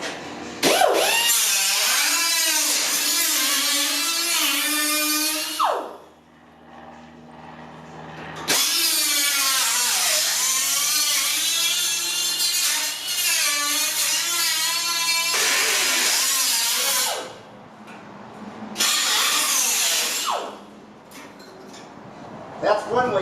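A die grinder cuts rust off the roof of a Sprinter van, running loud and close in long bursts of shrill, wavering whine, separated by brief pauses.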